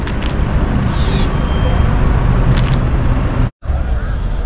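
Road traffic in Zimbabwe, a dense continuous rumble of engines and tyres with vehicles passing close by, and a brief dropout near the end.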